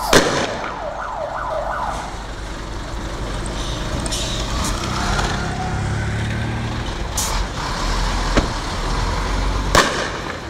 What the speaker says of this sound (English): In different parts of Kampala, police fired tear gas to disperse demonstrators who had put barricades in the roads.